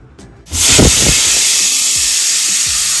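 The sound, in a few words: pressure cooker whistle releasing steam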